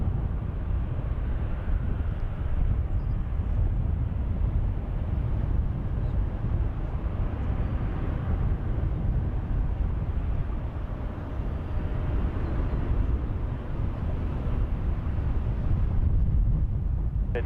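British Airways Boeing 777 taxiing out at San Francisco International Airport, a steady low rumble of jet engines at a distance, blended with wind noise that stays constant throughout.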